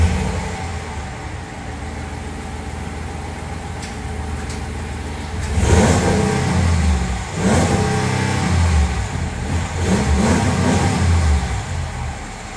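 A bone-stock 2022 Ram 1500 with the 5.7 Hemi V8 and factory exhaust revs three times in quick succession, each loud, close throttle blip rising over a steady idle rumble that continues between them.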